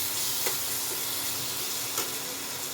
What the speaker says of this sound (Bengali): আমি ভেজে নেব